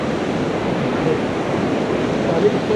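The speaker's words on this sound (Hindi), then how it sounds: "पानी कितना तेज बह रहा है," Fast-flowing river water rushing steadily beneath a bridge on the Kedarnath trek, a continuous broadband roar that stays even and fairly loud throughout, with faint wind noise mixed in.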